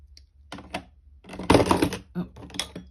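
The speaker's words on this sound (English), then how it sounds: "Oh, tools falling off my tool rack." Tools fall off a tool rack in a jewellery-making workshop with a run of sharp clattering knocks. A louder jumble of impacts comes in the middle.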